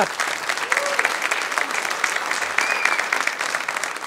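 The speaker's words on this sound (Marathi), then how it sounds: "एकदा जोरदार टाळ्या" A studio audience claps steadily to welcome a comedy talk show, a dense, loud, even round of applause with a few faint voices mixed in.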